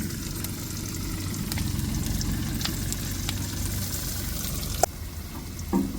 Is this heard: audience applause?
no